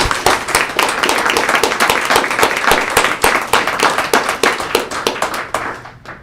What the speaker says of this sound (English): I feel compelled to have a round of applause for Mabel Bustiker.